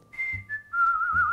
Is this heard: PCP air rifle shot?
no